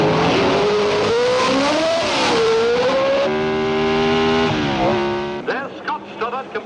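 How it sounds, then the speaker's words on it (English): Formula One racing cars at the Monte Carlo Grand Prix scream past, a loud high engine whine rising and falling in pitch through gear changes, with a Ferrari among them, continuous and close before fading at the end. "he's drawing steadily away from Sarti. There doesn't seem to be anything the Ferrari driver can do about it"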